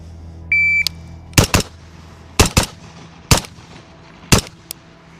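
A Centurion Arms 11.5-inch FBI AR-15 rifle fires on a range: a shot-timer beep sounds first, then six loud, sharp reports come in pairs and singles about a second apart, with quiet gaps between them.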